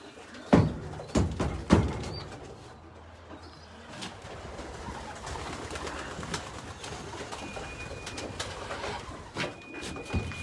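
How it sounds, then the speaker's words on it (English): Racing pigeons in a loft give soft low cooing calls, mixed with several sharp knocks and wing flutters near the start, then a quieter background of shuffling and rustling. "those are the two Dietrich birds huddled up together"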